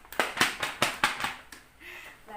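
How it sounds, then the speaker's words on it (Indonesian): A handful of hand claps in a classroom, applauding a student who has just presented, come as six or so sharp, fairly close slaps over about a second and a half before fading into quiet room noise. "Tepuk tangan untuk Elga"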